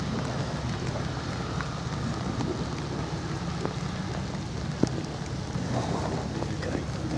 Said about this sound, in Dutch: Ja, blijf maar regenen.